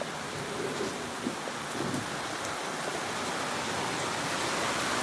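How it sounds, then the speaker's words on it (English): Heavy rain pours steadily outside, a dense, continuous hiss that stays loud and even throughout with no voices over it. "Man, it is coming down hard"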